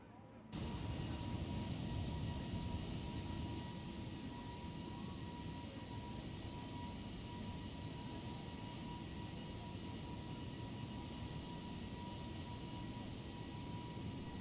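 An Airbus A320 airliner in the MSFS2020 flight simulator climbs after takeoff out of Riga, a steady, broad engine roar that swells in and then holds at an even level throughout.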